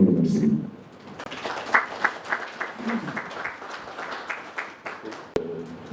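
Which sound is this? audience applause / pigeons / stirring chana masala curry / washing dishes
audience applause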